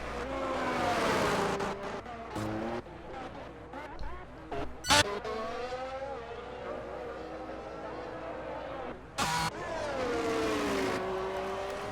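Mercedes race car taking the final corners and crossing the finish line on the Singapore circuit, engine revving and shifting as it passes, under continuous race commentary.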